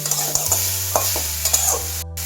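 Milk and jaggery filling being stirred in a pan for sooji dudh puli, a steady close scraping and swishing with soft sizzling underneath, continuing without talk.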